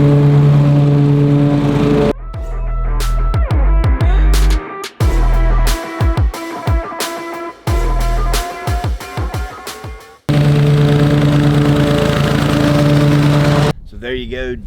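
A push lawn mower running while mowing straight lines across a big yard, a loud steady engine drone that drops and returns as the mower turns, with someone talking over it.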